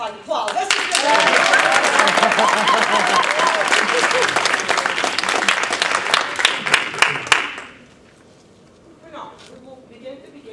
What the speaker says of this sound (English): I just like applause.